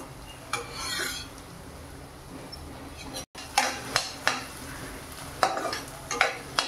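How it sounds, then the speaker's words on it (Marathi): Ingredients for rava upma are sautéed in a pan, with a ladle scraping and knocking against the metal in separate strokes over a low sizzle, close, with a brief dropout partway through. "आता हे थोडंसं परतूया."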